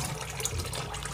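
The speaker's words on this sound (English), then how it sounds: "at the end of washing it, you make sure you pour out all the water" Rice-washing water being poured out of a pot while making jollof rice, a short continuous splashing pour close by.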